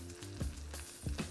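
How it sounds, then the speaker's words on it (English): Lamb shanks browning in a little oil in a frying pan give a steady, close sizzle with brief louder crackles and spits, with no talking. "pop them into a little oil in a frying pan, and we're going to brown them well"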